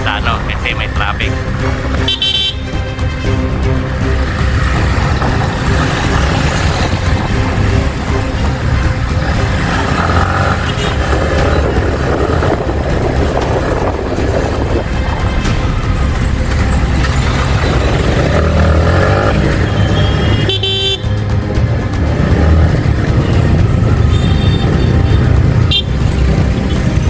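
Road traffic rumbles steadily for a long stretch, with car and truck engines passing close by and brief horn toots now and then. Someone talks over the traffic.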